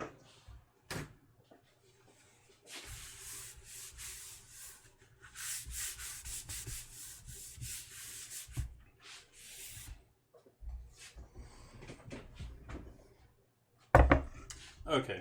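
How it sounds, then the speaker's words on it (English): A spatula scrapes and rubs across a board, gathering food for a Basque-style burnt cheesecake and mac and cheese with cheddar and gouda, in repeated close, scratchy strokes with brief pauses and light knocks. "Grab a clean spatula here and get good stuff up off the board."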